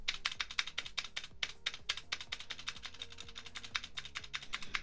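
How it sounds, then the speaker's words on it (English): A computer keyboard clatters under quick, irregular typing, with dense bursts of close, crisp keystrokes and a brief pause partway through, and no voices. "You guys like my keyboard?"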